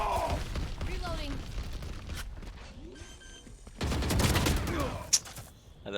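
Valorant gunfire comes in scattered rapid bursts of cracking shots, with a denser volley near the end and a sharp single pop after it, amid game effects and brief voice lines.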